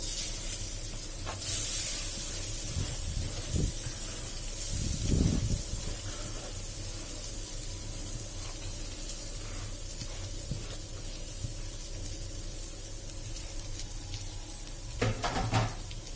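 Grated coconut roasting in hot ghee in a kadhai, a steady soft sizzle with brief louder bursts of crackle near the middle and again toward the end, no voices.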